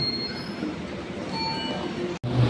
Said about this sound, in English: 7:55 Central train leaving Woy Woy 18 minutes late at 8:13.